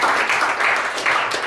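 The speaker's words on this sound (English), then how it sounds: "maybe give you a round of applause for taking time for us." A brief burst of applause from a small team in a classroom setting, steady clapping at moderate loudness with no voices over it.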